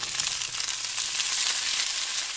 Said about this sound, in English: the cabbage does a little bit of water on it, that's why the sizzling noise